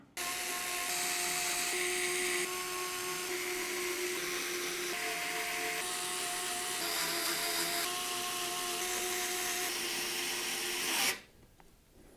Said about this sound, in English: we're going to use these short radiator screws to secure the radiator to the bracket